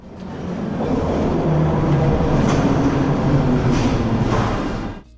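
A Detroit metro train rides along with a steady, loud rumble of wheels and car noise, fading toward the end with no talking.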